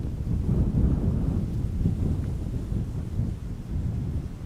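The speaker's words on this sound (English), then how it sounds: "Wind is picking up a little bit." Gusty wind rumbles and buffets outdoors at Schiphol Airport, a loud, continuous low roar with no one talking.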